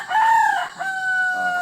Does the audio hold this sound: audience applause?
no